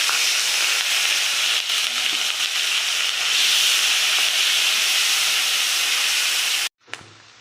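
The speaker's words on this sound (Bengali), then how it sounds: "এই দেখো 2টো বড় সাইজের পেঁয়াজ নিয়েছি, বেটে নিয়েছি, সেটা আমি দিয়ে দিলাম তেলের মধ্যে।" Onion paste from two large onions frying in hot oil makes a loud, dense, even hiss that runs steadily for several seconds before cutting off abruptly near the end.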